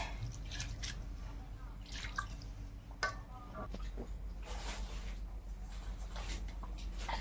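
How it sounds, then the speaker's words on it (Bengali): Mung and masoor lentils are washed by hand in water, giving faint, intermittent drips, splashes and small sloshes with a clack or two, quiet and close, with faint background voices. "মুগ ডাল আর মুসুর ডাল একসঙ্গে করে রান্না ডালটা ধুয়ে নিচ্ছি"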